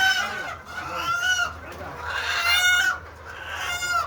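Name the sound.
chickens clucking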